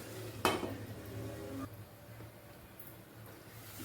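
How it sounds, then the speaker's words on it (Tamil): A lid is clanked onto a pot of spicy Andhra-style chicken: one sharp metallic clink rings briefly over soft, steady sizzling, which then turns quieter and muffled once the pot is covered. "நம்ம கொஞ்சம் மூடிடுவோம்"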